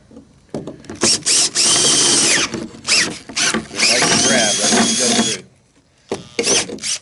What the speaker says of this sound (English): We'll flip it over and drill it from this side.